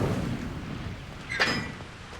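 An Incendio fire spell is cast in the Hogwarts Legacy video game, a short burst of sound rising out of a steady low rumble of background noise before fading back into it.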